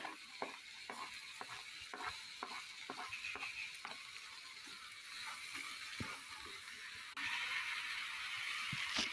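Tomatoes stirred in a hot pan while cooking a bottle gourd gravy: a steady run of soft scraping strokes over a faint sizzle, heard up close with no talking.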